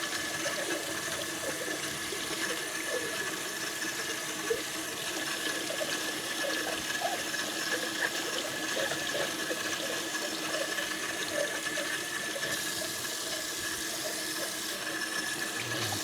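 Tap water runs steadily into a sink as a piece of laser-engraved glass is rinsed, giving a constant close splashing hiss with no talk.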